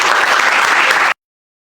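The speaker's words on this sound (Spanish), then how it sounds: "un aplauso para Daniel" Close, loud applause from an audience clapping for Daniel, a dense burst of many hands that lasts about a second before cutting off sharply into silence.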